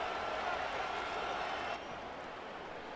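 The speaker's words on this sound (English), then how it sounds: "this crowd is loud and this crowd is ready for a ball game" Stadium crowd noise from the Madden NFL 25 video game, Dolphins at Bills at Highmark Stadium: a steady, dense roar of cheering and applause that dips slightly near the end, with no talk over it.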